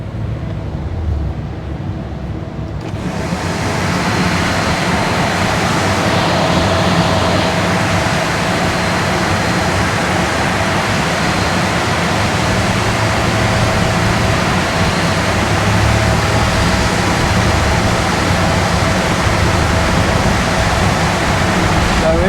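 Land Rover Defender 2.2 TD4 Puma diesel engine held at full throttle in 5th gear on a dyno, a loud, steady, unbroken roar that builds in after a quieter opening few seconds and holds for the rest.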